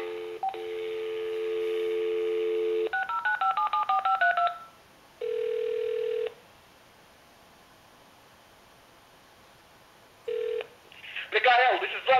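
Telephone keypad dialing in a comedy scene, crisp DTMF tones: a long steady tone, then a quick run of rising and falling dialed digits, two separate held tones, and a burst of noisy chirps at the end, with no speech over them.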